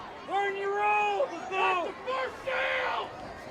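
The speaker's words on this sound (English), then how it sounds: "You can hear the Tongi crowd giving their opinions" Spectators at a Tonganoxie Chieftains versus Louisburg Wildcats high school football game shout in several loud, drawn-out bursts, voices overlapping in a rising and falling chorus of yells.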